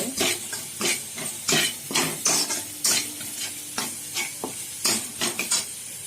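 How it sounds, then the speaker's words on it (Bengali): Grated coconut being stirred and fried in a kadai, with repeated scraping strokes of a spatula over a soft sizzle, close and steady with a few metallic knocks. "নারকেল দিয়ে কড়াতে ভাজা ভাজা করতে হবে"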